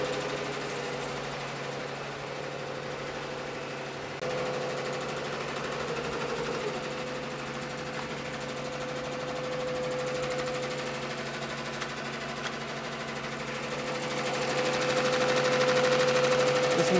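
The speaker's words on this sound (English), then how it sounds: "Let's go check on the DTF printer." A DTF transfer printer runs with a steady mechanical whir and hum, a faint tonal whine riding on top, continuing without a break.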